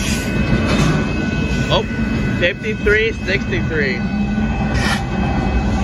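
A northbound Union Pacific intermodal freight train passes at a road crossing in Austin, Texas, as a loud, steady rumble close by. Squealing wheel tones rise near the middle, and a person briefly speaks over it.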